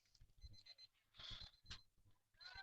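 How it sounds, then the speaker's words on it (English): An electronic timer at a softball game beeps in short repeated bursts, fairly faint and distant, separated by quieter gaps of ambient field noise. "There's the timer going off."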